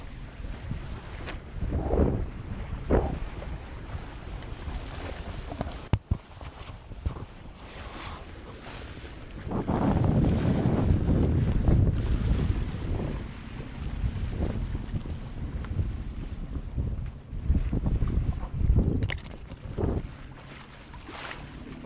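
A sailboat running under sail across Plymouth Sound on a sunny day, with steady wind and water rush over a constant bed of wind noise on the microphone, swelling louder midway, and no talking.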